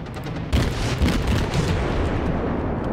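Warship main guns firing in the naval game World of Warships, loud booming salvos over a dense continuous rumble of battle noise, several sharp blasts in quick succession with no speech.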